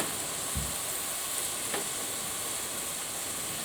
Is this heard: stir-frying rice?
yes